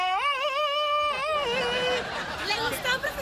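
A man imitates Tarzan's yell with a loud, warbling, wavering cry lasting about a second and a half, which breaks into rough vocal noise and a murmuring crowd on a comedy stage.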